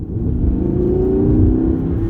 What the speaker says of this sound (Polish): Dźwięk V10 niesamowity.